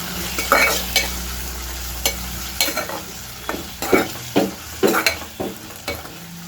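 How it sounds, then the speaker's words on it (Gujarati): Tomatoes are stirred into a frying eggplant mixture for Gujarati ringan no olo, with repeated scraping spoon strokes over a soft sizzle, the stirring loud and close in an uneven rhythm. "હવે આપણે એમાં ટમેટા એડ કરવાના છે બધું મિક્સ કરી લઈશું"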